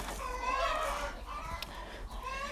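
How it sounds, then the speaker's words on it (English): Little chicks on a farm cheep and cluck in a steady, close chorus of high chirps, with no clear talking over them. "We're going to take care of the little chickens first."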